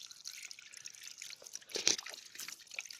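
Water drips softly and steadily in an outdoor garden setting, faint, irregular droplets falling close by with no talking.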